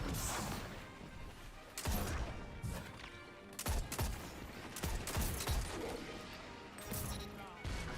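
A hand cannon fires in a Destiny 2 match, sharp shots in an irregular rhythm amid other gunfire and crashes, with a voice talking faintly beneath.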